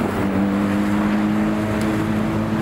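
A Porsche 992 GT3 drives past, a steady engine drone with a sustained low tone that holds fairly close and loud throughout, no talking.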